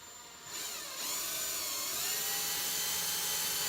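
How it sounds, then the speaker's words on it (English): A cordless power drill whirs up to a steady high-pitched whine that holds continuously, close and fairly loud, with no talking. "I went and I grabbed my lovely drill from my car."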